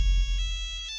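A short chiming startup jingle from a 1990s or 2000s device rings out on its own, a few bright bell-like electronic tones stepping in sequence over a low hum, clear and close.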